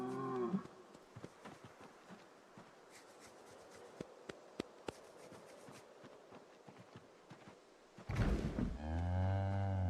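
A cow in the Project Zomboid video game lets out one loud, close, drawn-out moo near the end, after a quiet stretch of faint ambient game noise and scattered soft clicks.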